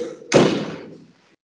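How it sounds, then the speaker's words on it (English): A door closed in a classroom, one firm slam with a short thud that dies away quickly, alone without talk. "I'm just going to close the door."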